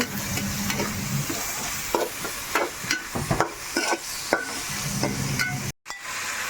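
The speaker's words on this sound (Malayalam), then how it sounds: "വെളുത്തുള്ളി ചതച്ചതുമാണ് ഇട്ട് കൊടുക്കുന്നത് ഇതെല്ലാം കൂടെ നല്ലപോലെ ഒന്ന് വഴന്ന് വരട്ടെ" Crushed ginger and garlic with spices sautéing in a pan for prawn biryani, a steady close sizzle broken by repeated stirring scrapes and clacks of the spoon, with no talking.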